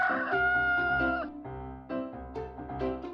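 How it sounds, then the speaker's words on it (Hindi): Several roosters crow loudly one after another, overlapping drawn-out calls with harmonic stacks, close and continuous with no talk. "सारे मुर्गे इतने जोर से पुकारा कर रहे थे"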